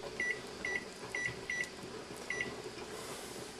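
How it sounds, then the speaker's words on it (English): A kitchen timer in a home kitchen, with water boiling for strawberry jam, being set: five short, faint beeps at uneven intervals over a steady hum of room noise. "I'm going to go ahead and set my timer for 10 minutes."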